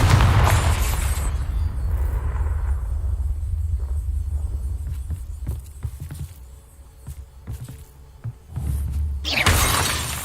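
The Confringo blasting spell in Hogwarts Legacy detonates in a loud shattering explosion, then a long rumbling decay with scattered debris clatters, and a second burst near the end.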